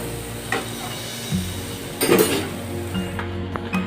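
Frying and stirring in a pan at home, with scattered metallic clinks and scrapes of a utensil against the pan over a soft background sizzle, close by and with no talk.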